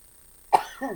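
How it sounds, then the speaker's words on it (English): A single sharp cough, close and loud, followed by a softer throaty cough after a brief quiet moment. "coughing along from it."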